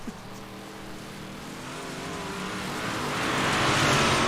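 Race car engines roar steadily in the distance on the Williams Grove dirt track, the noise swelling louder toward the end with no one speaking.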